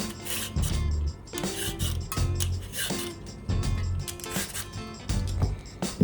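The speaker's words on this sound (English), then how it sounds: "I'm going to start off by peeling my carrots." Carrots are peeled with a vegetable peeler over a ceramic bowl, making brisk, rhythmic scraping strokes close to the listener, steady and with no talk.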